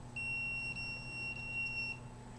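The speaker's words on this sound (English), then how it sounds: "alarm goes off" A steady high electronic alarm beeps continuously over a low hum in a home where a tracking device is suspected, rising briefly around the middle before fading near the end.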